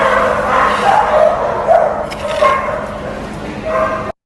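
Dog yips and barks repeatedly during a dog fight safety training session, short sharp calls scattered across a busy, noisy background with several overlapping animal sounds.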